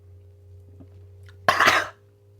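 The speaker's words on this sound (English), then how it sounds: "Excuse me while I clear my throat." After a quiet stretch with a low electrical hum, one harsh, close cough-like throat clearing bursts out and quickly fades.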